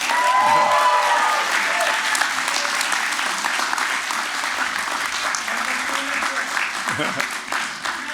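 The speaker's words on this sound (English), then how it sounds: "could you please give them a big round of applause?" Audience applause at a university fall convocation ceremony, honoring faculty and staff on stage; a large crowd claps steadily and loudly throughout, fading slightly toward the end.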